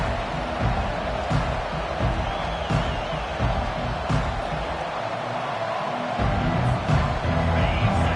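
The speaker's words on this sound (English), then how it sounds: "This crowd bringing an ear-splitting welcome to their visitors." Stadium crowd in the college football video game NCAA 25 roaring in welcome to the visiting team, a dense, sustained wash of cheering that holds steady and swells slightly near the end.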